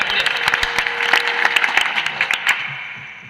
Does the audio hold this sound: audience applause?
yes